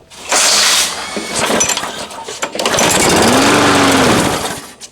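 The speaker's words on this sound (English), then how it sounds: "It ran, and it ran pretty good." An old red Craftsman push lawn mower, left sitting for years, sputters as its engine catches, then settles into a loud, steady running drone close by.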